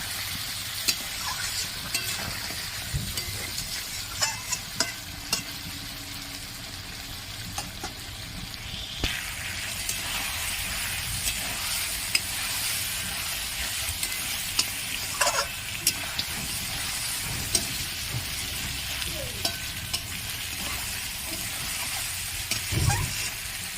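Fried potatoes are stirred into a simmering mutton curry: a steady bubbling sizzle runs throughout, with scattered clicks and scrapes of a spoon against the pot and no talking.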